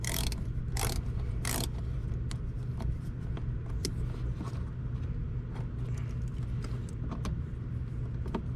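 A ratchet fitted with a Phillips bit backs out screws during a tow hitch base plate installation on a vehicle, giving quick clicking pawl ticks in short irregular bursts over a low steady rumble, close by, with no talking.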